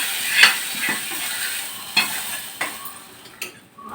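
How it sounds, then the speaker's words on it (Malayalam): Mustard seeds frying in hot oil for sambar give a few sharp spluttering pops over a soft sizzle in a home kitchen, close by, with no talk. "അപ്പോഴത്തേ നമ്മുടെ സാമ്പാറിന് കടുക് വറക്കും."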